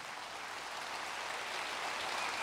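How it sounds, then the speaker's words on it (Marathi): A lecture audience applauds in a steady, dense wash of clapping that carries on without a break, heard from a moderate distance and fairly soft. "तरुणांनी उभं राहून टाळ्या वाजवल्या पाहिजेत"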